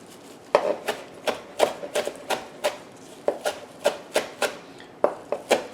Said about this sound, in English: Do a fine chop.